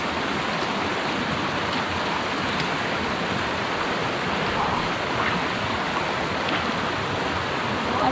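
A stream rushes toward Bhivpuri waterfall near Mumbai during the monsoon, making a steady, loud, close roar of flowing water that runs unbroken with no voices.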